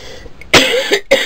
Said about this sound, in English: I have not coughed until I turned this camera on